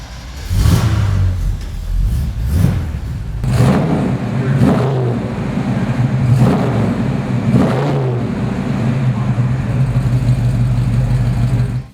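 A big-block 1975 Pontiac Firebird Trans Am engine fires up and revs repeatedly, loud and close, with deep rumbling bursts rising and falling over a steady idle throughout.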